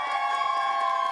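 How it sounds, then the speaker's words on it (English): A studio audience at a college sports show lets out a steady, moderately loud cheer with a dense crowd roar and no clear peaks, lasting about a second. "If you think it was Shannon,"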